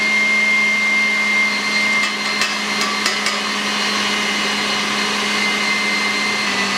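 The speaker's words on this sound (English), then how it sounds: "Now it's time for us to beat the egg whites on high speed" A handheld electric mixer running steadily on high speed, beating egg whites for mamon, a continuous loud whirring motor hum with a few brief clicks against the bowl and no talk.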